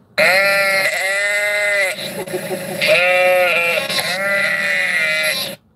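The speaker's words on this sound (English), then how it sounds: "Gotta get away from the sheep." Loud, close sheep bleating, several long wavering calls one after another with brief pauses between.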